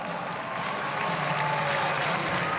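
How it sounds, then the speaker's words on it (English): Crowd applause for gymnasts at a women's gymnastics meet in an arena, a steady, full wash of clapping and cheering from many people, sustained throughout at even loudness. "let's give all these gymnasts a huge round of applause"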